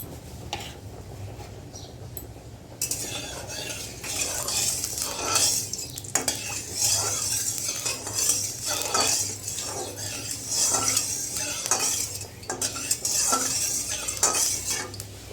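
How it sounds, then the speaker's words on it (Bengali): Oil is poured into a hot kadai (wok), setting off a steady, close hiss that runs continuously from a few seconds in, with occasional metal clinks and scrapes of utensils over it. "কড়াটা আমার গরম হয়ে গেছে, এবার দিয়ে দিলাম তেল"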